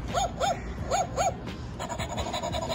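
A small puppy gives several short, high whimpers and yips close by, in quick pairs, followed by softer rhythmic whines against light background noise.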